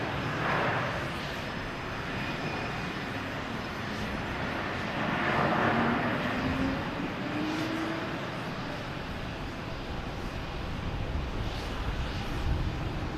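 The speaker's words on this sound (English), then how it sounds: "We got a JetBlue here coming from Philadelphia." A JetBlue airliner lands at Boston Logan Airport, a steady broad jet roar holding across the whole stretch with a slight swell midway, heard at moderate distance amid open outdoor air and wind.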